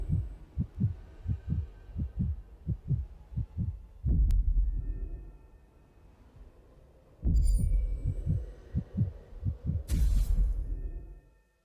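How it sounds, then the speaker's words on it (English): Heartbeat sound effect in the Honkai: Star Rail video game, a rhythmic series of deep, loud thumping pulses that pauses briefly and then resumes at the same steady pace. "why is there a heartbeat?"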